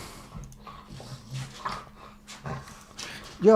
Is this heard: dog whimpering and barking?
yes